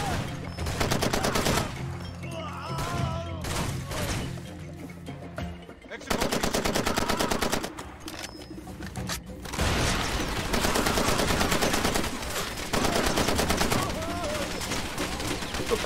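Rapid automatic gunfire from the video game Far Cry 2 crackles in long sustained bursts with a few brief pauses, loud and close, with occasional talk underneath.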